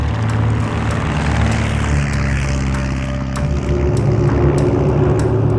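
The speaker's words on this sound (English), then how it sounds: "378 bombers took off from their bases." WWII American Eighth Air Force bombers take off from bases in England, a loud, steady drone of propeller aircraft engines with a throbbing pulse, with no talking.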